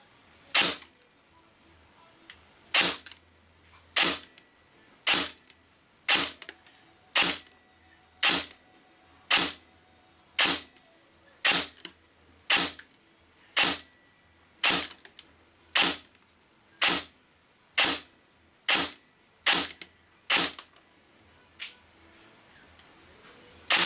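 An Ares M4 X-Class airsoft rifle shooting 0.2 gram BBs on an 11.1 LiPo battery fires single shots, each a crisp close crack, repeated at a steady, evenly spaced rhythm about once a second with near silence between.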